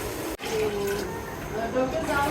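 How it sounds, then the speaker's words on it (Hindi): Water pours into a pot for cooking lobiya rice pulao at home, a steady splashing gush that runs after a brief break near the start. "अब हम डालेंगे पानी फॉर द राइस"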